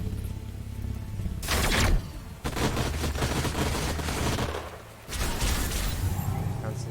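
Bursts of gunfire in the sci-fi strategy game Age of Wonders: Planetfall, heavy volleys hitting in rapid clusters with brief gaps between salvos, loud and close, with a voice talking over the battle.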